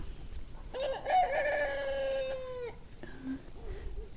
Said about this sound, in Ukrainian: А ці півні виспівують.